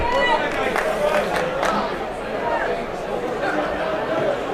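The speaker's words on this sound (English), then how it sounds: "Busy crowd. Buzzing." A busy crowd buzzes at a darts world championship semi-final, a dense, steady babble of many voices with scattered claps rising now and then. A commentator talks over it.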